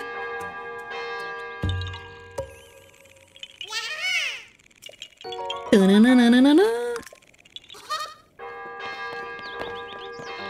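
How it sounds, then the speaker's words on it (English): A bell rings for a Korok in Zelda: Tears of the Kingdom, with clear tonal chimes and resonant bell tones mixed among other game sounds and musical effects, coming in short separate bursts. "You just need to ring the bell."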